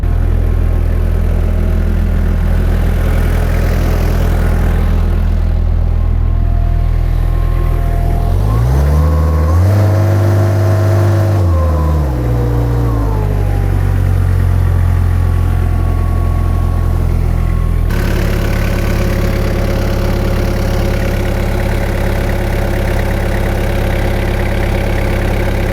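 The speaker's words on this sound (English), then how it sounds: "Now we're at idle. It's running a lot smoother at idle now." A Yanmar engine, swapped into a Cat skid steer in place of a Perkins 3034, idles loud and close with a steady low rumble, briefly revving up and settling back before idling on smoothly.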